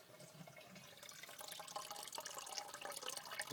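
Spring water runs from an old pipe set in concrete into a bucket, a steady trickling and splashing flow with small drips, close by and moderately quiet, growing slightly fuller toward the end.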